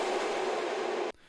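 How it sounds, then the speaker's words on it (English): A long reverb tail from a sampled reverb hit used behind a gated kick, a broad, dense wash of sustained noise that holds steady and loud, then cuts off abruptly near the end, leaving only a faint residue. "This tail sound would originally sound like this."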